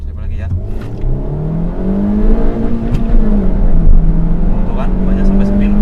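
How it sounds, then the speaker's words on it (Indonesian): A Honda Jazz engine revs hard and climbs in pitch under a steady roar as it accelerates, its wheels spinning on a dry road with a whirring, slipping quality, and some talk in the background. "Di jalan yang kering seperti ini saja ban 2-nya itu spin"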